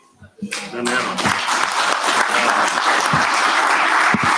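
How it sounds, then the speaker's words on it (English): After a brief voice, an audience at a university board of supervisors meeting breaks into loud, steady applause for Dr. Finney that holds strong and unbroken to the end. "Let's give him a round of applause."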